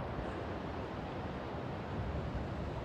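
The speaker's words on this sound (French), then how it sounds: "observons les vagues frapper les falaises en dessous de nous" Ocean waves crash against rocky cliffs below a headland on Terceira in the Azores, a dense continuous roar of surf with wind, loud and unbroken.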